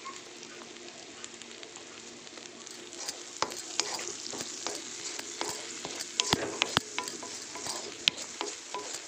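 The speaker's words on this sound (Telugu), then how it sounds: "జీలకర్ర పొడి, ధనియాల పొడి వేసి మంచిగా కలపాలి" Ground coriander and cumin stirred into a sizzling curry in a pan, a constant crackling fry broken by frequent clinks and scrapes of the spoon, close and moderately loud, growing busier toward the end.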